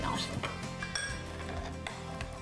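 A whisk mixing salt and pepper into vinaigrette in a bowl, quick metallic clinks and rhythmic scraping against the bowl, close, with a voice speaking over it.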